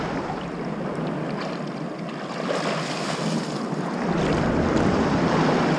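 Ocean waves and surf wash steadily against a shoreline where people wade out to sift for shark's teeth, a broad continuous roar that builds louder toward the end, with wind buffeting the microphone.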